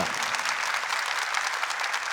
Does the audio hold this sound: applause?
yes